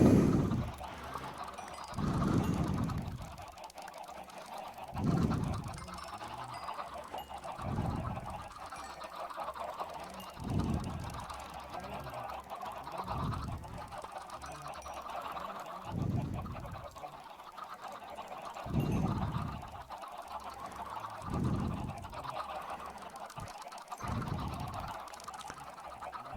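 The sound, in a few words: clucking crowd of chickens in video game Minecraft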